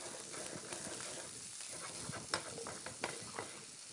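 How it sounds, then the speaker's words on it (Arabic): Onion and garlic sizzle softly in a pan, a faint steady hiss broken by a few small pops and stirring scrapes, with no talking. "هشوي البصل الاول مع الثوم كده"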